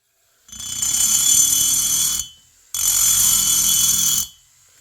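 A Dremel rotary tool porting the cylinder of a Stihl 026 chainsaw whines loudly and steadily in two bursts of about two seconds each, with a short silent pause between them and no talking.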